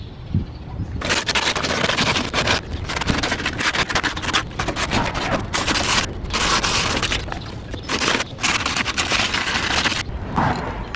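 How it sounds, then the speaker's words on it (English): A power sander grinds surface rust off the strut tower of a 1997–2001 Honda Prelude. The harsh, loud abrasive roar runs continuously for about ten seconds, with a few brief dips. "I'm going to sand down this coilover the strut tower because it's rusty"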